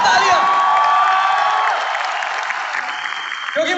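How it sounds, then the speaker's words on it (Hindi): Loud applause from a large audience, dense and sustained with cheering and whoops mixed in, fading slightly toward the end. "एक बार जोरदार तालियां"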